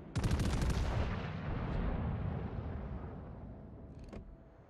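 A single heavy salvo from the warship Mecklenburg's guns in World of Warships booms loudly at the start, then rolls into a long fading rumble, with a faint distant report near the end.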